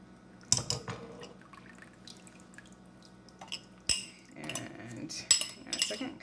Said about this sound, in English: And then I'm going to add to it my milk and lye mixture.